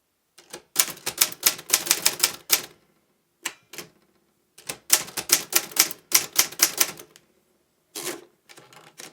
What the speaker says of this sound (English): Now I will type again Olivetti Graphika, but I will use the spacebar on the right side.